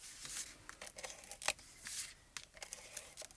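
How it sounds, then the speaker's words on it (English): A tape runner lays adhesive for papercraft card making, giving close, quick scratchy rasps and ticks in short uneven strokes, fairly quiet, with no voices. "I'm just going to use some tape runner."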